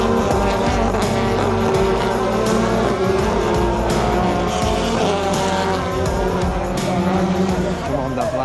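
BTCC touring cars, Toyotas among them, race at a UK circuit: a loud, sustained roar of engines as the pack thunders past nearby, with revving and shifting throughout.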